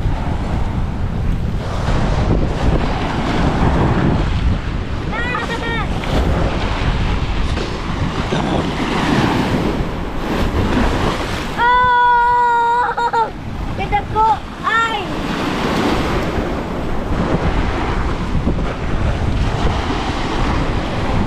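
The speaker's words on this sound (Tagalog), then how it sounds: "It's very windy" Strong wind buffets the microphone over crashing surf at Es Canar beach in Spain, loud and continuous, while voices talk and a child squeals in the background.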